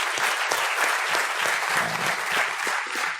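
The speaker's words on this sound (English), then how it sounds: "I think these two gentlemen deserve a huge round of applause." An audience at a fireside chat applauds steadily, dense clapping sustained at even strength throughout with no voices on top.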